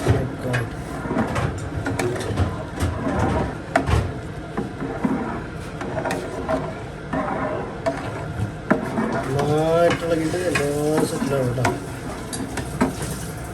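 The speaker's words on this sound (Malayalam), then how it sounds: "നമ്മുടെ ബിരിയാണി ചോറിൽ നമ്മുടെ ക്യാരറ്റ് ഇട്ടുണ്ട് അത് നന്നായിട്ടൊന്ന് ഇളക്കണം" Chicken biryani rice with carrots is stirred in a pot, with rough scraping and shuffling strokes over a soft sizzle, heard up close and continuing unevenly throughout.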